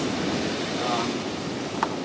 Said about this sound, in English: Now we got a little bit of swell and waves behind us